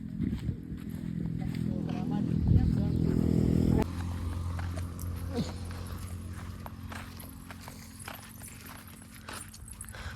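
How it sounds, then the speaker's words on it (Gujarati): A herd of buffaloes walks past on a farm, their hooves clopping in a loose, continuous rhythm close by, with voices talking over them. "જો ગાઈસ કેટલી ભેંસું જાય છે બધી"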